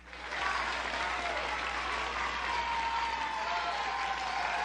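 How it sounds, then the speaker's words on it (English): A fake audience-clapping sound effect plays from a retro Atari Pac-Man 2600+ console game, a continuous wash of canned applause at moderate level that holds steady throughout. "I love the fake audience clapping."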